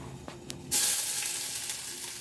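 Onion hits hot oil with a sudden loud sizzle that swells and holds as a steady, crackling fry, close and alone.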